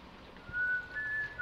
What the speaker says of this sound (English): The whistling's giving me anxiety?